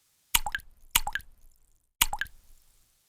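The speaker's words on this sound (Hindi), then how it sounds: "छत के कोनों से पानी की बूंदें टपक रही थीं" Water drops fall from the roof corners of an old shop, three distinct plops at uneven intervals, close and clear against a silent background.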